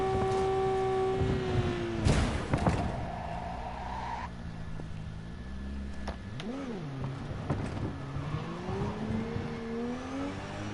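A video game car engine holds a high, steady drone at top speed, with its pitch wavering slightly and occasional bursts of screeching noise.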